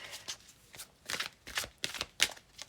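Tarot cards are shuffled by hand, giving several separate soft swishing and snapping bursts, close and quiet, with short pauses between them.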